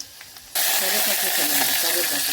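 Mustard seeds, cumin, and green and dried red chillies hit hot oil for a pepper rasam tempering, bursting from near-quiet into a loud, close, steady crackling sizzle that carries on without pause.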